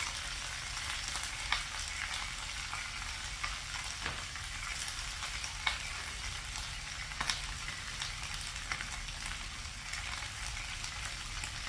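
Vegetables fry in a pan with a steady, dense crackling sizzle that continues without a break. Faint pops rise now and then, and no one speaks.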